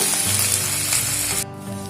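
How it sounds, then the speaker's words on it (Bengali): Steady, loud sizzling of ginger paste frying in hot oil with whole spices, continuous throughout with a slight drop in intensity near the end. "আদাটা একটু ভেজে নেব"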